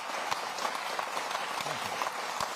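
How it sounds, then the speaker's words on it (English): An audience applauds a guest speaker, the Shadow Chancellor, at a political event, a faint, dense patter of many hands clapping steadily throughout with no voices on top. "Do you usually get 2 rounds of applause before you've even spoken a word?"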